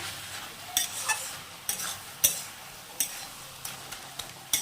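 A ladle or spatula stirs vegetables with lentil dumplings in a pan, giving repeated sharp scraping strokes at irregular intervals over a soft simmering sizzle.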